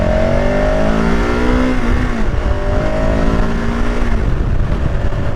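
A used 2023 KTM 1290 Super Adventure S motorcycle engine pulls hard under acceleration, a loud, steady, rising engine drone with climbing harmonics and brief dips as gears change, continuous throughout.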